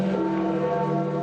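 Church bells toll at the Basilica as cardinals lead Pope Francis's casket inside, a brief, steady ringing with sustained, overlapping tones and no voices.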